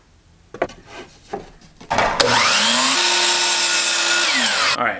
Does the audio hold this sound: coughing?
no